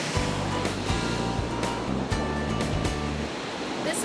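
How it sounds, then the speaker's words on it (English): A backyard waterfall with a Columbia River view pours in a steady, loud, broadband rush of falling water that continues without a break, with a low hum underneath. "Is the waterfall we have in our backyard."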